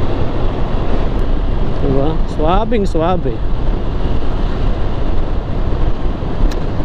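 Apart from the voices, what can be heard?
motorcycle riding on road with wind noise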